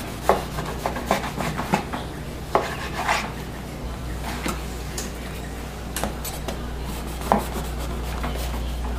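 Knife cutting French rolls in half, a run of faint crisp crunching and sawing strokes close up over a steady low background hum, no talking.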